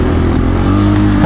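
Motocross bike ridden on a dirt cross track by first-time riders, its engine droning loud and close throughout with a steady, dense rumble and a slight rise near the end.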